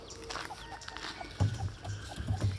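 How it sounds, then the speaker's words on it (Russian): Chickens and a rooster cluck and call near a rubbish heap by a bungalow hotel, with several short low clucks close by and a few fainter calls, over steady outdoor background noise. "Видите, как тут куры гуляют. Петушок с курками пасутся у помойки."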